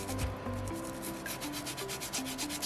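Sandpaper rubs back and forth over a small soapstone Moai carving in a steady rhythm of soft, close, gritty strokes, with faint low background hum.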